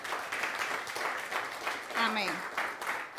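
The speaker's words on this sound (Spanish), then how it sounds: "Yo le diera un fuerte aplauso al Señor." A church congregation applauds during a Spanish-language service, a steady patter of clapping beneath a voice speaking over it.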